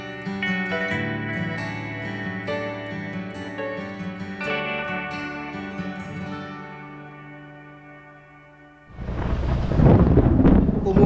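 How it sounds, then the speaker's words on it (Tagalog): Thunder breaks in near the end as a loud, broad rumbling roar outdoors during a motorcycle ride, following about nine seconds of music with no speech. "kulog na."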